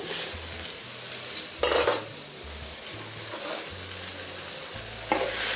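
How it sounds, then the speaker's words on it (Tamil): Chicken gravy for butter chicken being stirred in a covered pot, a spoon scraping and clinking steadily over a soft, constant simmering hiss, with a few louder scrapes standing out; no voices. "ஒரு கிண்டி விட்டுட்டு"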